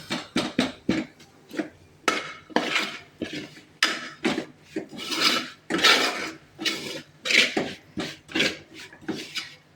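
Pork roast mixture with onion and tomato being stirred in a pan: repeated scraping, clattering strokes of a spoon against the pan in an irregular rhythm, close and fairly loud.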